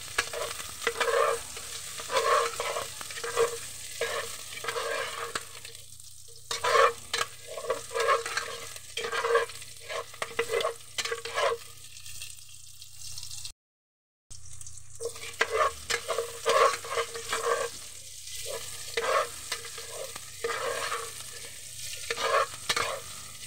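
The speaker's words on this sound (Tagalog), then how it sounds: "Igisa na natin yung ating bawang." Garlic sautéing and being stirred in a frying pan, a steady sizzle broken by repeated scraping stir strokes, close and fairly loud, with a brief gap partway through.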